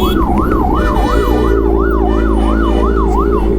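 In Bengaluru traffic, a fire engine's siren cycles rapidly and steadily, loud and near, over a deep rumble of engines and road noise.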